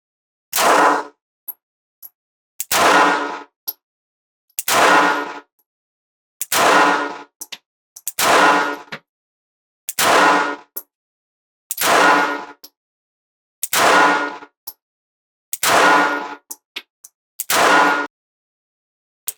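Springfield Hellcat 380 pistol firing Winchester 95 grain flat-point full metal jacket rounds, about eight sharp, loud shots spaced evenly roughly two seconds apart with silence in between.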